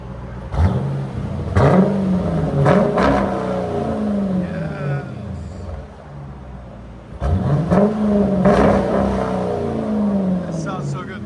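A 2019 Dodge Durango R/T 5.7L HEMI V8 with Flowmaster Outlaw exhausts revs hard twice, the loud roar climbing and then falling back each time, recorded up close.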